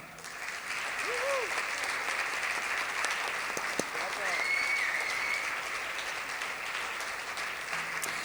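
Audience applauding at a concert album presentation, a steady sustained wash of clapping from a crowd, heard at a moderate distance with a voice briefly rising over it.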